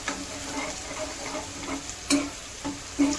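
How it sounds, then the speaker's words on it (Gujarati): Sliced onions sizzle softly in a pan over a low flame, cooking toward golden brown for a Kathiyawadi roasted eggplant dish, with a few sharp clicks and scrapes from stirring punctuating the quiet frying. "હવે આપણે મસ્ત હલાવી નાખશું અને ડુંગળી ગોલ્ડન બ્રાઉન થઈ જાય ત્યાં સુધી પકાવશું"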